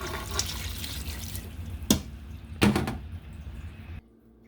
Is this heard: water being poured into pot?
yes